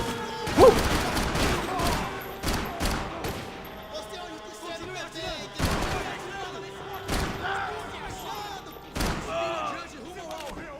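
Gunfire in Max Payne 3, loud sharp shots and bursts ringing out repeatedly at irregular intervals, with game music and effects underneath.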